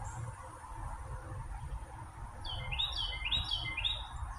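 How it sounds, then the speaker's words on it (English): A bird whistles a short run of bright, repeated notes from the trees on a Saturday morning, clear but fairly soft over a low outdoor rumble, coming in during the second half. "did you hear that whistling bird?"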